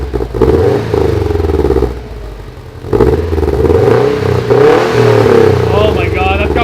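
A Subaru STI with a newly installed Invidia Q300 exhaust revving in bursts: loud, rasping engine swells rising and falling, a short dip between pulls, with people talking over it near the end.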